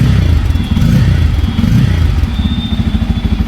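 A Bajaj Pulsar N250 with stock exhaust revs up from idle in a few quick surges, the low exhaust growl rising and falling before settling back to a thumping idle.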